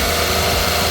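A 2019 DR17W 4x2 automatic turbo diesel pickup engine idles close up, a loud, steady, even drone with no changes in revs.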